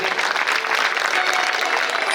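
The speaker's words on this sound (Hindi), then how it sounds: "अरे जोर से बजाओ ताली" Audience at a Shrimad Bhagwat katha clapping loudly, a dense continuous burst of hand claps close by with faint voices mixed in.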